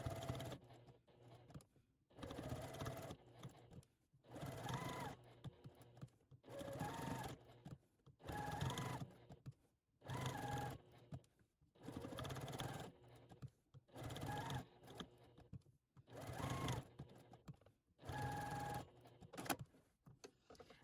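A sewing machine stitches a quilted collage in short bursts of rapid mechanical whirring, about ten runs separated by brief pauses, recorded close and fairly quietly.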